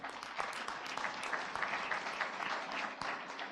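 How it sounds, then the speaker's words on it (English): An audience at a climate justice court conference claps steadily, a dense wash of applause at even loudness throughout, with no voice above it. "Kindly clap for her."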